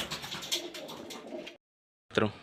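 Pigeons coo in a backyard coop where a hen bird sits on eggs in a basket, close, continuous low cooing that stops abruptly for half a second, then resumes briefly.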